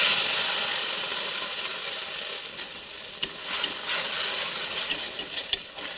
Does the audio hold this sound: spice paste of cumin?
yes